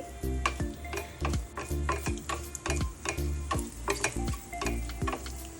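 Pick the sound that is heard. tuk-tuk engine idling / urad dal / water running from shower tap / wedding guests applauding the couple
urad dal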